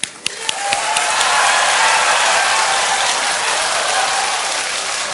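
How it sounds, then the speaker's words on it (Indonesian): A live debate audience breaks into loud, sustained applause with a few sharp claps at the start. The dense clapping continues steadily for several seconds before easing slightly. "kalau ada yang mau tepuk tangan silahkan"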